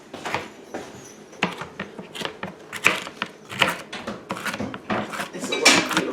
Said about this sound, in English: I'm going to cut this stick of butter up and get into a bowl here